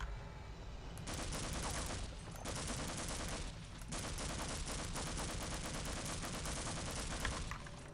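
Rapid, continuous MP5 submachine gun fire in Half-Life rattles in long sustained bursts, loud and close, with a short break between volleys and no talking.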